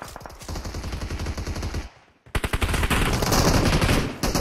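Rapid bursts of automatic gunfire in a video game, loud and close, with a brief pause near the middle before a denser fusillade resumes.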